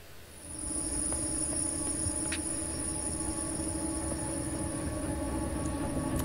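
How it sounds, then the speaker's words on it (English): Trains rumble past in the side-scrolling game INSIDE, a steady low roar with faint squealing and clanking carried over the whole stretch after a soft start, no voices. "Oh, trains. More trains there."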